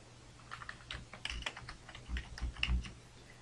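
An email address being typed on a computer keyboard, a close, quick run of light key clicks with uneven rhythm and a few heavier taps, no voices.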